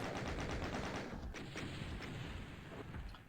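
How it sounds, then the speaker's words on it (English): Chaingun fire in Doom (1993) during a battle with a cyberdemon, a rapid run of loud gunshots for about a second, then scattered blasts and booms under a continuous rumbling roar. "so I switched to a hit scan weapon in my chain gun"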